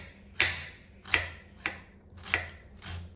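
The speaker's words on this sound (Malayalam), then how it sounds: "ആദ്യം തന്നെ നമുക്ക് സബോള ഒന്ന് കട്ട് ചെയ്യാം." A knife chops onion on a cutting board for a Kerala-style onion mezhukkupuratti, five sharp separate strikes spaced under a second apart, close and clear with no talk.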